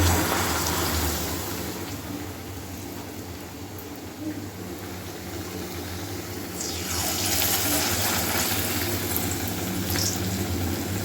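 Palm pitha batter balls deep-frying in hot oil, a steady broadband hiss and bubbling sizzle that rises slightly toward the end, close and continuous with no talking.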